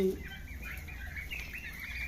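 Turkeys cluck softly nearby in short, scattered calls over a low background hum.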